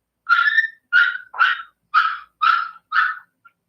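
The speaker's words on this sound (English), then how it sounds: "I can hear my dogs on your live." Several dogs bark in six sharp, evenly spaced bursts, loud and close, with silence between them and no talking.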